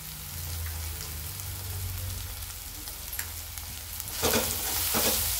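Ridge gourd thecha with turmeric and salt being sautéed in a pan, a soft continuous sizzle with low rumbling background, then louder bursts of scraping and frying as the mixture is stirred toward the end.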